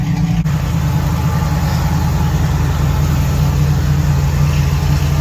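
A car engine idles steadily at close range, a continuous low rumble with no pauses or revving and no voices.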